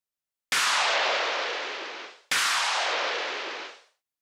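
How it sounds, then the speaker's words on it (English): A synthesized laser blast built from a single pitched sample in FL Studio: two loud, bright bursts back to back, each starting sharply and fading over about a second and a half, heard alone. "A laser blast sound of some sort."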